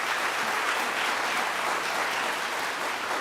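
Church congregation applauding during a Taiwanese-language Sunday worship service, a steady, even wash of clapping that holds for the whole stretch with no speech over it.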